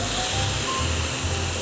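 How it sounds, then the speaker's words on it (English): Rack of lamb searing in a hot cast iron skillet at around 400 to 450 degrees, giving a steady, close hissing sizzle that runs unbroken throughout with a low rumble beneath. "Nice little sizzle."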